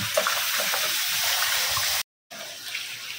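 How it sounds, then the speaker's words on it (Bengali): Tap water runs steadily into a kitchen sink while dishes are washed, a close splashing stream that cuts out for a moment and then resumes. "আর আমি এখানে থালা বাসন মেজে দিচ্ছি।"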